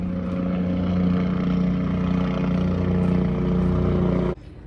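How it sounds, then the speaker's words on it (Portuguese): A helicopter passes overhead near a student's home in the United States, a steady, loud rotor and engine drone that holds for over four seconds and then cuts off. "voltando depois do helicóptero passar"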